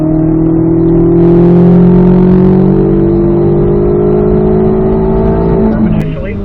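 A Chevrolet Corvette C8 Z06 pulls hard on a race track, its engine note rising steadily and loudly before a quick shift near the end cuts the drone.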